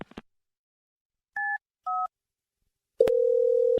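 Telephone being dialed: a few short clicks, then two distinct keypad tones in quick succession, followed by a sustained steady dial tone, clear and close with nothing else around it.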